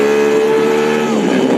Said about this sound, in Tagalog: Ang motorsiklo niya na 150cc ang displacement ng makina, ipinasok niya sa South Luzon Expressway o SLEX.